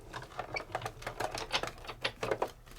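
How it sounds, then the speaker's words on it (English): A Sizzix die cutting machine rolling a Framelits die through with paper: a busy rhythmic clatter of mechanical clicks and rumbles over a few seconds, close and moderately loud. "all I have to do is send this right through my machine. Just a super easy roll"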